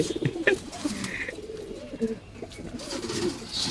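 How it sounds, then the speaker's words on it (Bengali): Pigeons at a loft where fancy breeds are being shown and sold, giving soft low cooing calls in short bursts, fairly close, with some background bird chirps and no clear talk. "তারা ভাইয়ের স্পেশাল একটা চিলা আছে"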